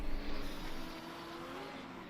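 A BMW Group 5 race car's engine drones steadily on track at Hockenheim, a sustained mid-distance engine note with a faint rising pitch and no talk.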